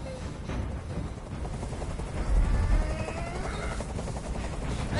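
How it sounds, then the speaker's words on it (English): Helicopter in the Detroit: Become Human hostage scene, a continuous rotor drone and rumble under tense game ambience with a swelling low thump midway, steady and fairly loud throughout. "I can't stand that noise anymore. Tell that helicopter to get out of here."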